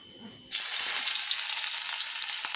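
Garlic dropped into a wok of hot oil left from frying fish, already seasoned with cumin seeds; after a brief quiet moment a loud, close, sustained sizzle bursts up and keeps crackling steadily.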